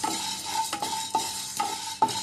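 Black pepper and fenugreek seeds are dry-fried in a pan for sambar powder, with a spoon scraping and stirring in an even rhythm about twice a second over a faint sizzle, up close.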